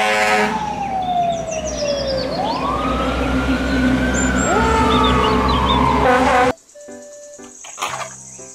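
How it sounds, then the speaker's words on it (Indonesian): Toy fire engine siren from a ladder truck, rising and falling in a loud, steady wail that cuts off abruptly, followed by faint clicks and rustles with no talking. "Mobil truk tangga pemadam kebakaran."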